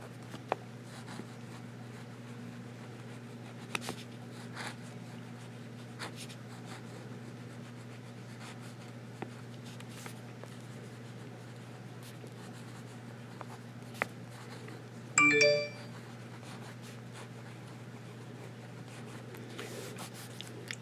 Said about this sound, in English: And now we'll get to writing here.